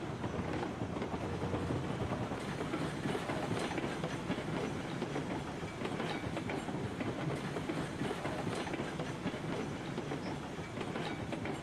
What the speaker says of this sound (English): let me go ahead and stop the train the way I don't accidentally derail this damn thing